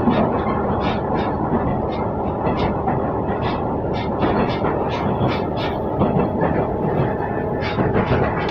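A Noto Railway sightseeing train rolls along the track with a steady rumbling drone and regular rhythmic wheel clacks, close and continuous, with a faint voice in the background.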